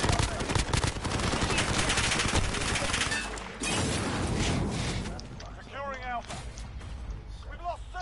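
Loud, sustained automatic gunfire from Call of Duty Modern Warfare rolls on in dense bursts, with a booming blast midway and quieter shots toward the end, as a player talks over it.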